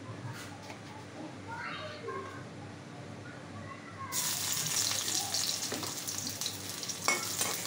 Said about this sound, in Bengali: সরষের তেলটা একটু গরম হওয়ার পরে কিছু পেঁয়াজ কুচি দিয়ে দিবেন।